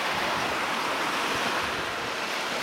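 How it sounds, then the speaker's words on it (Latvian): Sea waves wash onto the shore in a steady, close, broadband roar with some wind rumble, no voices present. "Šeit skaties uz jūru."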